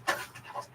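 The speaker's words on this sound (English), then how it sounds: "dogs in here making all kinds of noise" Dogs pant and whimper indoors, a few short, breathy huffs and a faint whine close by, quiet and brief.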